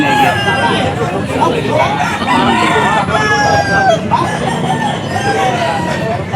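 Roosters crowing amid a busy pet market selling long-tailed chickens, several drawn-out crows rising over clucking fowl, chatter and crowd babble, fairly loud and close.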